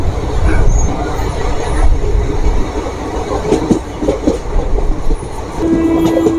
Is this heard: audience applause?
no